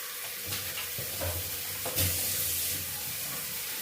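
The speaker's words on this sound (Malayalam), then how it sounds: "ഇനി ഇതിനകത്തോട്ട് അല്പം വെള്ളം ഒഴിച്ചു കൊടുക്കാം" Water runs into a simmering elephant yam dish over a steady sizzle, with a few soft pouring surges close by, no voices.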